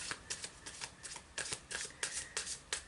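Tarot cards are riffled and shuffled by hand in a quick, uneven series of crisp flutters and snaps, close and clear with no talking.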